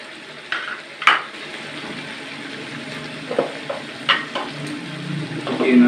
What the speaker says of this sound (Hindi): और अब इसमें हम फ्राई पोटा कलेजी मिक्स करेंगे,